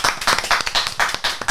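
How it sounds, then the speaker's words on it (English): Hands clap in a quick, even rhythm of about a dozen sharp, close claps, loud and crisp in an indoor podcast setting with no talking over them. "wow, huge clap"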